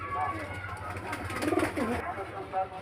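Pigeons kept at a loft in Beldanga coo near the listener, a few soft rolling coos in the middle and at the end, with a person talking over them.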